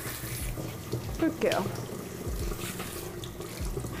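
Lukewarm water sprays gently from a nozzle on a low flow while a Maltese dog is bathed, a steady close splashing hiss with a person speaking softly over it.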